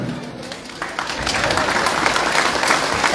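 Audience applause for special guests at a swearing-in ceremony for a new Green Party municipal committee in Ocosingo, a dense wash of clapping that swells and holds steady throughout, with a voice faintly underneath.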